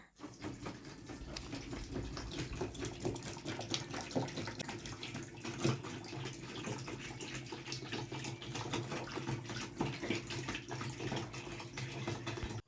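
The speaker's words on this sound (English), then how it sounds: "I have my water with me here, and I'm going to pour it into this bucket" Steady gush of water pouring into a bucket while mixing a homemade DIY floor polish, a continuous splashing flow that stays close and even for the whole stretch, with no talking.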